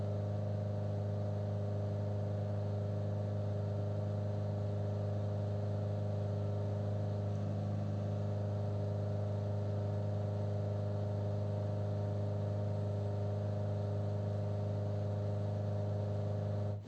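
A car engine runs at a steady, even drone throughout a cam timing test, a constant low hum with no revving changes, fairly faint and without voices.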